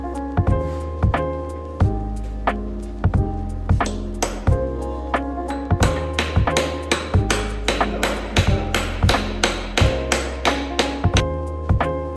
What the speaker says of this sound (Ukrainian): починає гратися екстрактором для того, щоб відкрутити ці болти